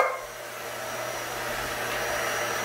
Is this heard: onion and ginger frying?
no